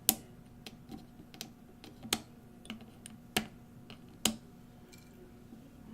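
Side cutters snip the excess leads off electronic components on a logic pulse input circuit board, a series of sharp, separate clicks at irregular intervals over a quiet background.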